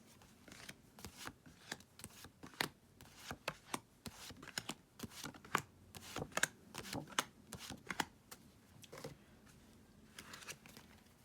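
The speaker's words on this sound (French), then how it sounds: "je vais rajouter d'autres cartes" Tarot cards being shuffled and laid out on a table, giving a run of soft, close riffling flicks and light slaps that come in irregular bursts, quiet and alone, with no speech.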